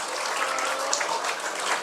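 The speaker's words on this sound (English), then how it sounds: "Great round of applause" Steady, moderately loud applause from an audience at a student induction program, a continuous patter of many hands clapping together without a clear break.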